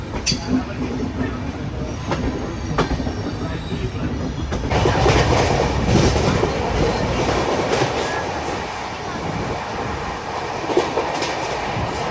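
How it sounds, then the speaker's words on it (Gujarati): A train rumbles along at high speed, a steady loud roar of wheels on rails with rhythmic clacking and occasional sharp metallic clicks. "હમણાં તમને દેખાડું ટ્રેન ફૂલ સ્પીડમાં ચાલે છે."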